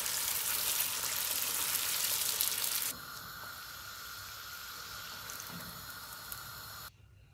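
Pooris drop into very hot oil over a full flame, setting off a loud, dense hiss for about three seconds that then settles into a quieter, steady bubbling sizzle before cutting off.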